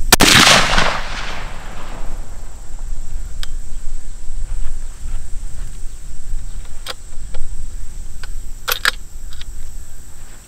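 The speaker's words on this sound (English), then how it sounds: "And we'll shoot another one and see." A .308 coyote-hunting rifle in an XLR Element chassis, fired while sighting in outdoors. One loud, sharp shot opens the clip and rolls off into a fading echo, leaving quiet outdoor ambience with insect chirps and a few faint clicks.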